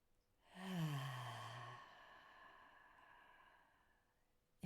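A single slow, deep breath is exhaled through the mouth in a soft, breathy sigh with a faint voiced start, fading gradually into near silence.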